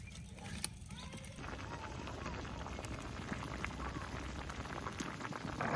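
A pot of light-brothed curry of fresh ridge gourd bubbles at a steady, faint simmer, a soft continuous boiling texture that stays low and even throughout.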